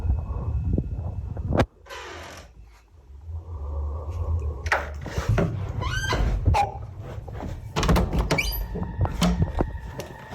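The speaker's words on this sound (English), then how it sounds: "the door opens and halts by itself before suddenly closing shut" A bedroom door opens by itself in stuttering, halting movements and then suddenly shuts, giving a sharp knock, creaks and squeaks, and a final bang against faint room noise.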